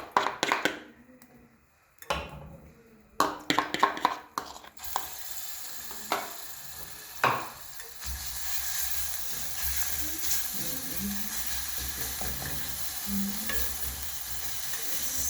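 Garlic sizzles as it fries in a pot for a brown rice soup, stirred with a spoon. Close, scraping stirs and clatter come first, then a steady, even sizzle holds underneath.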